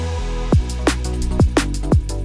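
A Serum synth init patch with two unison voices and a modulated low-pass filter plays short plucky notes that swoop sharply downward in pitch, spaced in a loose rhythm over a low sustained tone for a liquid drum and bass track.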